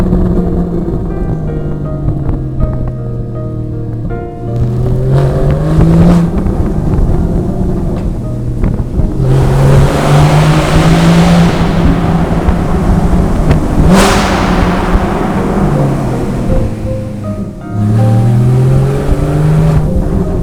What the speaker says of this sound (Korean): 아벤타도로도 울고 갈 살인적인 배기음 한번 듣고 가시겠습니다.